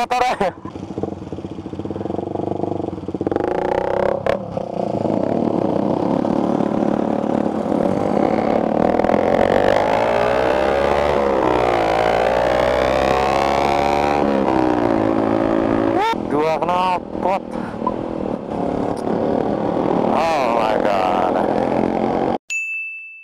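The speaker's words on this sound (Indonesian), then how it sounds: "motor satu silinder ya" A single-cylinder motorcycle with twin exhausts revs repeatedly in street traffic, its engine note rising and falling loudly over about twenty seconds, with brief voices and other traffic noise mixed in.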